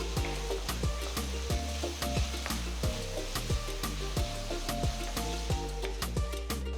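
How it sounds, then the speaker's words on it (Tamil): Steady sizzling and frying of tomato and green chilies in a pan, with regular scraping strokes of a spatula stirring the food, close and fairly loud. "பொடுசா நறுக்கின ஒரு பெரிய தக்காளி, நீல வாக்கில் கட் பண்ண 3 பச்சை மிளகாய் சேர்த்து இதையும் நல்லா வதக்குங்க."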